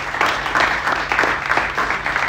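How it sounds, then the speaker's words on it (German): An audience at a political campaign kickoff rally with Christian Lindner in Böblingen breaks into warm, steady applause, moderately loud and filling the hall for a couple of seconds. "einen herzlichen Applaus"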